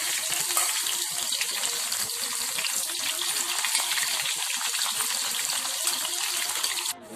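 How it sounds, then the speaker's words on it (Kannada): Bitter gourd pieces fry in hot oil with a steady, dense crackling sizzle that runs close and unbroken, along with occasional faint watery bubbling, then cuts off abruptly near the end. "ಈಗ ಹಾಗಲಕಾಯಿ ಸ್ವಲ್ಪ ಎಣ್ಣೆ ಹಾಕ್ಕೊಂಡು ಅದ್ರಲ್ಲಿ ಸ್ವಲ್ಪ ಈ ಥರ ಕರಿಬೇಕು"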